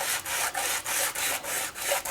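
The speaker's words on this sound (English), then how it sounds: "So basically we're going to be sanding it like this" A guitar part is rubbed back and forth on 220 grit sandpaper clamped to a flat surface, giving a steady, close rasping scrape in even strokes of about a quarter second each.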